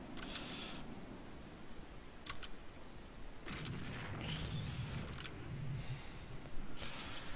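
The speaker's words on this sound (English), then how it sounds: "So I assume we have all our guns firing right now." Naval guns fire in the Rule The Waves 2 battle game, with scattered sharp reports and a few dull booming thuds spaced irregularly over a low rumbling background, moderately loud and without speech.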